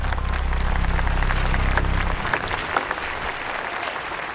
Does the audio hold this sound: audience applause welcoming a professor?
yes